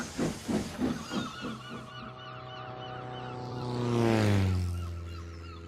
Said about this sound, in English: he puffed away in a cloud of steam